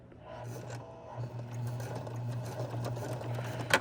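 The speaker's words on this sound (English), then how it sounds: "I'm going to hit the reverse button, hold that down, and press my pedal for a couple of stitches again." A Singer M3220 sewing machine runs briefly in reverse for a couple of stitches, giving a low steady motor hum with soft mechanical rubbing and ticking, close and fairly quiet, ending in a sharper click.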